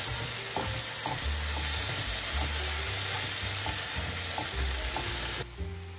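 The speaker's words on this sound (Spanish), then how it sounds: "En este punto vamos a agregar el tomate y revolverlo." Tomato is stirred in a sizzling frying pan with chickpeas and vegetables, giving a continuous close crackle and hiss broken by soft scraping strokes of the spoon, which fade near the end.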